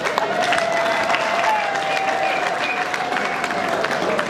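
Wedding guests in Kinshasa applaud together in a continuous wash of clapping, with a faint voice or tone drifting through the crowd noise.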